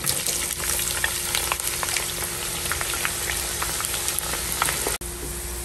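Sliced onions fry in a pan with a dense, steady sizzle and spatter while occasional scraping stirs cut through, ending with a brief break before the frying resumes.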